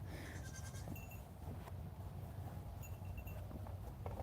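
Goats squabbling over a ramp on a small farm during morning chores let out a couple of short, faint bleats over a low, steady background rumble.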